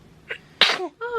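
A newborn baby lets out a single quick sneeze, preceded by a small breathy intake and followed by a soft little vocal sound, all close and brief.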